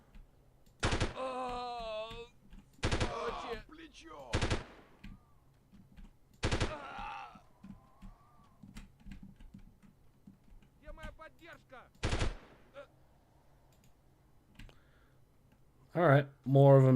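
Gunfire from an M4 rifle in the 1998 video game Delta Force, heard as several sharp, loud single shots spaced a couple of seconds apart, with a louder burst near the end.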